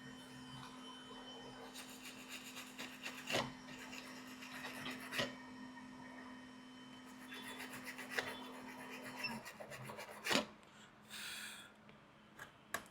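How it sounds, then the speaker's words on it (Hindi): A brush scrubs a Samsung LED TV circuit board clean with thinner in soft, irregular scratchy strokes, close and quiet, over a faint steady electrical hum with a few sharper knocks. "थिनर और ब्रश, इसको साफ कर देते हैं"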